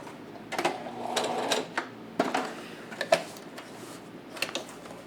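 A sewing machine stitches a fabric face mask with elastic in short, stop-start bursts of rapid ticking, close and moderately loud, with small clicks between the runs.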